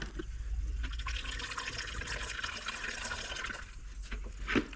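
Water drains out of a line into a small bucket during a structural floor repair, a steady close trickle and splash with a brief louder spurt near the end, no talk over it.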